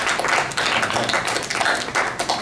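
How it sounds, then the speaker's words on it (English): An audience at a music industry career panel hosted by a university live music association breaks into applause, a steady rustle of many hands with irregular surges, fairly close and with no talking. "A round of applause for the Live Music Association."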